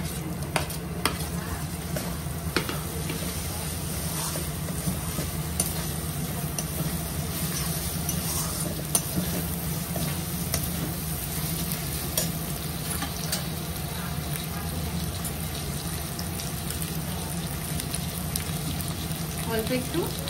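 Green chilies and tomato sizzle steadily in a pan while a spoon stirs them and scrapes now and then. The frying hiss is soft and continuous throughout.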